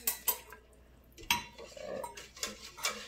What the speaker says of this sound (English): you just want to keep stirring the sugar until it dissolves